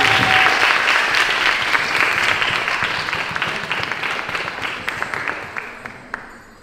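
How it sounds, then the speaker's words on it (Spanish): Audience applause fills the room at a dance event, starting loud and dense, then slowly thinning and fading as scattered claps trail off. "Un aplauso."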